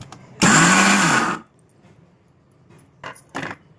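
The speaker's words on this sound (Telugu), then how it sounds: "మిక్సీ జార్లో ఇలాగా పెసరపప్పు మామిడికాయ వేసుకుని ఒకసారి ఆడేసుకుందామండి" A mixer grinder coarsely grinding raw mango and moong dal for chutney whirs loudly for about a second, then cuts off, followed by quiet clinks and rattles.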